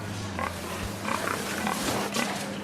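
Pigs in an industrial piggery's boar house grunt and snuffle in a steady, mid-distance chorus over a continuous low mechanical hum.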